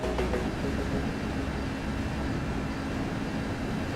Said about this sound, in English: That train's picking up speed!